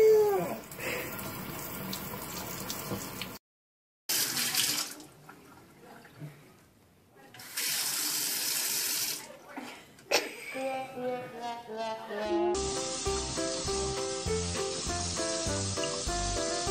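Water runs from a tap and splashes in bursts as a baby plays in it, broken by brief silences and changing in pitch, with scattered drips and soft voices in the background.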